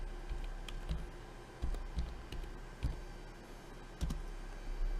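A computer keyboard is typed on, giving sparse, faint key clicks over a steady low hum of room and machine noise, with no talk.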